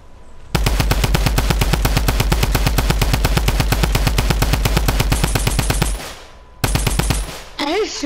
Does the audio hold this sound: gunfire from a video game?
yes